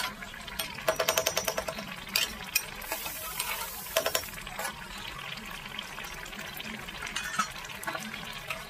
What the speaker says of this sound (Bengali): মাছগুলো দেওয়ার পরেও ভালোভাবে আমি 1 মিনিট ফুটিয়ে নেব।